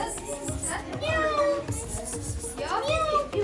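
A cat meows a couple of times, drawn-out and plaintive, over busy background chatter with children's voices nearby, at a zoo.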